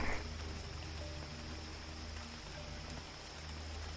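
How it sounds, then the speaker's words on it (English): Steady rain in the video game Cataclysm DDA, a constant hiss of falling water with a low rumble beneath and a faint high tone held throughout, with no talking. "because it's raining"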